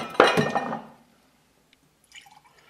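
Skrewball peanut butter whiskey poured into a metal jigger, a short close splash and trickle lasting under a second, then near silence with a faint clink of glass.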